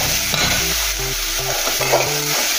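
Tomatoes and coarsely ground spices stir-fried in a pan, a steady broadband sizzle with repeated scraping stirs of the spatula at an irregular rhythm, close and fairly loud with no talk.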